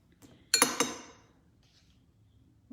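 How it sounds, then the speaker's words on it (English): A spoon clinks sharply twice against a measuring cup of liquid, then the ringing fades into near silence before a faint final tap. "I'm just gonna give it a little bit of a stir"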